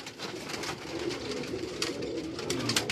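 Rampuri pigeons on a rooftop in Karachi coo softly amid a busy, noisy background, the calls blending into a continuous murmur without clear separate phrases.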